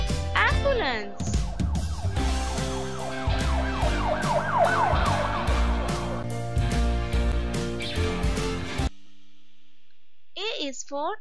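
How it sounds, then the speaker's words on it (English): A wailing ambulance siren sweeps up and down for several seconds over a steady musical backing, then cuts off into near silence before a short bright tone at the end. "A is for ambulance."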